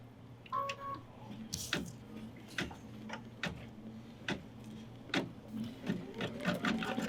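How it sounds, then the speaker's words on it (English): Sewing machine running decorative blanket stitches to tack down fabric on a greeting card: a mechanical hum with evenly spaced sharp ticks from the needle, close and steady with no talking. "And now it's going to do the decorative stitches to tack it down."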